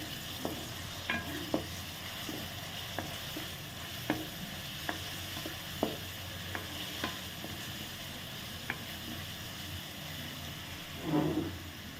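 Cumin, cinnamon pieces and cloves sizzling in hot oil while being stirred, a continuous crackle broken by sharp spoon taps against the pan and a short scrape near the end, no talk.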